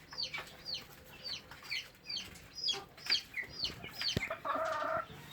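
Several backyard chickens cluck in short repeated bursts throughout, fairly close, with one brief sharp knock near the end and a louder squawk at the finish.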